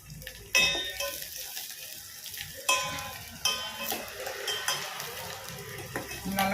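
Spices sizzle and pop in hot oil as milagu kulambu tempering is fried for Karaikudi pepper curry, with a spoon stirring and clanking against the pan in several sharp strikes over the steady crackle.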